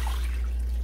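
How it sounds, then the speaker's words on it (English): Wet wool locks lifted out of a tray of wash water, with a brief soft trickle and drip of water falling back into the tray, close and fairly quiet. "and then lift it out of the water."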